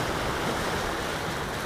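Ocean waves wash in against coastal rocks below a cliff trail, a steady, loud, continuous roar of surf and churning water with no voices.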